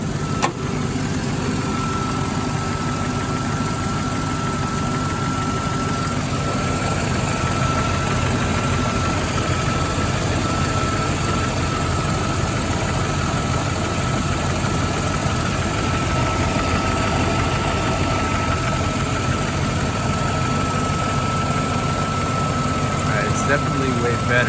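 A car engine idles steadily for the whole stretch, a constant low rumble with a faint whine running through it.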